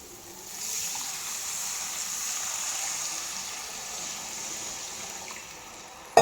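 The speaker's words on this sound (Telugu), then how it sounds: "ఇప్పుడు 1 కప్పు వాటర్ పోసాం కదా" A cup of water poured into a pan of cooked onions for semiya upma gives a soft, steady rushing gush lasting several seconds, followed by a brief clatter at the end.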